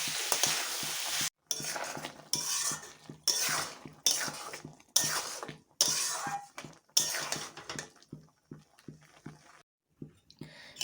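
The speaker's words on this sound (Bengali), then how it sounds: "ঝোল দিয়ে দিয়েছি, এটা এখন আস্তে আস্তে ফুটুক।" Ghugni curry cooking in a pan, giving soft sizzling and stirring scrapes in short bursts separated by pauses, fairly close and quiet, with someone talking over it.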